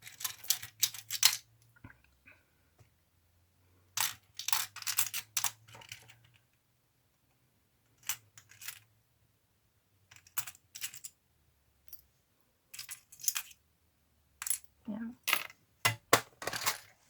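Gold plastic key charms jangling and clicking as they are handled, in irregular bursts of light rattling separated by brief pauses, close up with no talking.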